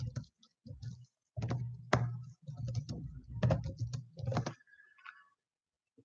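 Someone types on a computer keyboard in short irregular bursts of soft clicks and taps, close and quiet, with brief pauses between runs of keystrokes.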